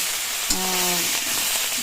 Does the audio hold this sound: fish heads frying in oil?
yes